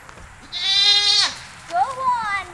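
A young goat kid bleats twice, a long wavering loud cry followed by a shorter rising one, close by on a farm.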